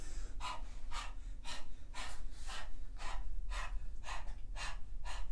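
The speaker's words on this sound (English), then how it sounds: "begin to pant rhythmically just like a dog" Rhythmic panting breaths, about eleven quick regular huffs in a steady pattern, close and fairly soft, with no talking.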